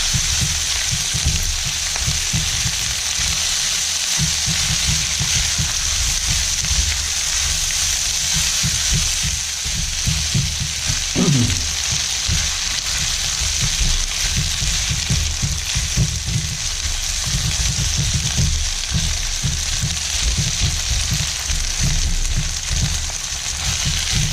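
Rice for nasi goreng frying in oil, heard as a loud, dense, continuous sizzle and crackle that holds steady throughout with faint low clatter beneath. No one speaks.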